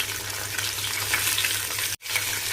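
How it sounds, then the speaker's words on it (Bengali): Fish fries in a pan, a loud, dense sizzle of hot oil heard close up and steady, broken by one brief dropout near the end. "মাছটা ভাজতে দিলাম।"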